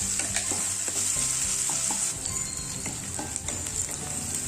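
Onions fry with curry leaves and a pinch of salt in a hot pan, a loud continuous sizzle broken by repeated scraping strokes of a spoon as they are stirred.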